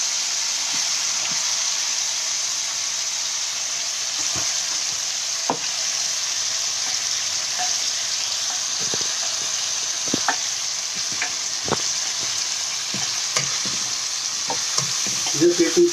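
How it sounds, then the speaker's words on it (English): Onion and tomatoes fry in a pan with a constant bright sizzle, while a spoon stirs through them in scattered scrapes and taps, close and steady with no talking. "Just have to keep stirring the tomato to cook the tomato very well."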